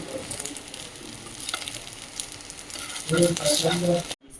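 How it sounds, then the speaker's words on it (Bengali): Semolina and yogurt batter sizzles in hot oil as it is turned over, a close, crackling fry with scraping bursts that grow louder toward the end before stopping abruptly. "দই আর সুজি আমি এই এরকম করে একটু ভেজে নেবো উল্টি পাল্টিয়ে"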